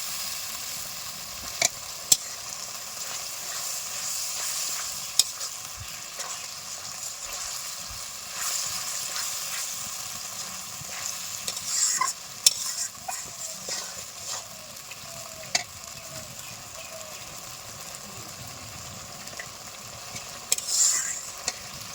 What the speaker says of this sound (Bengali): এটা ভালো করে কষিয়ে নিতে হবে যাতে ময়লাটা না পড়ে যায়